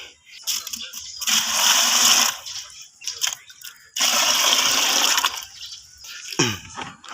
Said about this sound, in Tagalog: nalagyan ko ng tubig